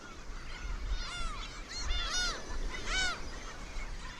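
Gulls in a Sea of Japan marine reserve colony give several loud, arching cries in quick succession over young chicks, set against a low rumble of wind and surf.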